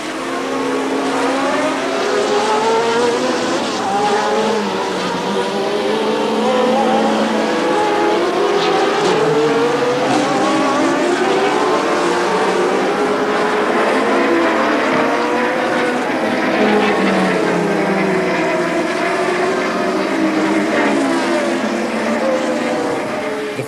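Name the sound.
Formula 1 racing cars, Turbo and Cosworth engines, Long Beach 1982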